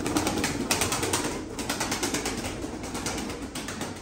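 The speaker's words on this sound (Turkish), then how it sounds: "Bunlar da yayla falan kuşlardır." Pigeons flutter and shuffle close by in a loft of highland birds, a busy stream of wing flaps and soft scuffling with quiet coos, no one speaking.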